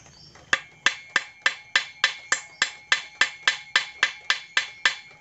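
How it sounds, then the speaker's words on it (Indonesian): Steel rod hammered against a rusted broken bolt: about fifteen sharp metallic strikes at a steady, even rhythm, close and loud, each ringing briefly before the next. "Lalu perlahan-lahan kita pukul-pukul seperti ini."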